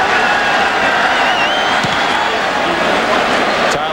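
A big, rowdy college football stadium crowd at South Carolina vs LSU in 2002 roars as a steady wash of noise throughout, under a commentator's voice.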